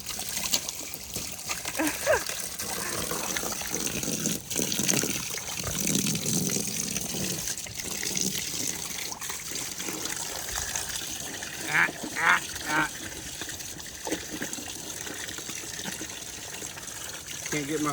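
Water runs and trickles steadily into a pig trough for the whole stretch, with people talking intermittently over the flow and some splashing.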